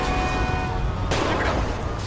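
Gunfire in GTA 5 during a street fight with a rival gang, with two sharp bursts cutting through a loud, steady background roar.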